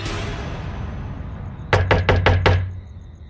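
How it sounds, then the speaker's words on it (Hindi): Five loud, evenly spaced knocks bang on the main door of a house, close and forceful, rising out of a rumbling ambient background. "घर का मुख्य दरवाजा जोर जोर से बजा।"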